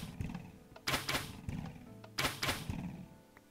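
Projectile traps firing in the Minecraft video game: a couple of sharp whooshing shots with soft thunks around them, fairly close, with no talk.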